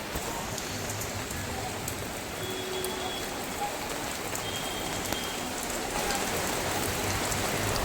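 Heavy evening rain pours down outside a house backyard, making a dense, steady hiss of drops striking surfaces close by, continuous and even throughout.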